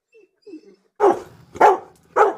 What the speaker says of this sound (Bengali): না, এটা আমার রিংটোন।